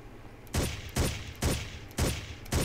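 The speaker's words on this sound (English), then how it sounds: "Please stop shooting." Gunfire in the video game Ghost Recon: five loud, sharp shots in a steady rhythm about half a second apart, each trailing off into a short ringing decay, with no voices.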